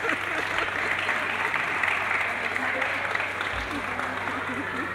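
Audience applause fills the room steadily for the whole stretch, a dense, even patter of many hands with a faint crowd murmur beneath it.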